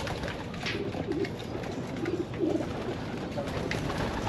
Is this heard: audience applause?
no